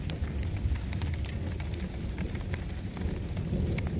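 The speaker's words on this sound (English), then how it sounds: "did you know that it's raining?" Steady rain falls outdoors on an August morning, a constant dense hiss of drops with scattered sharper taps on nearby surfaces and a low rumbling undertone, no voices.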